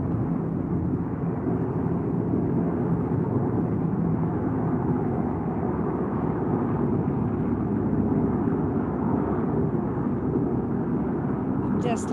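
A plane passes overhead as a steady, broad low roar, loud and continuous throughout, with no clear rise or fade, during an outdoor guided wellness meditation.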